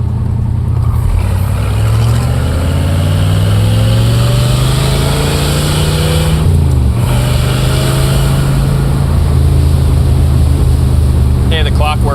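A 1967 Corvette 427 convertible revving hard through the gears, with a loud, close V8 roar that climbs in pitch, drops at a shift, and then climbs again.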